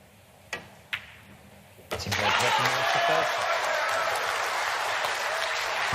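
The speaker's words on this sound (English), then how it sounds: "you can hear the crowd getting involved" Crowd at a World Cup of Pool quarter-final match, a few sharp clacks of balls, then loud sustained applause and cheering swells up and fills the rest, with a commentator talking over it.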